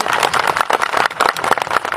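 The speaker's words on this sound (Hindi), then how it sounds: "एक बार जोरदार तालियां बजाएं" Audience applause at a Gond tribal community gathering, dense continuous clapping from a crowd, loud and steady throughout with no pauses.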